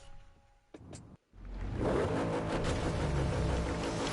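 A BMW in the racing video game Driveclub, set up for drifting, revs up: a brief engine burst, a short cut to silence, then a loud, sustained, steady engine roar that holds to the end.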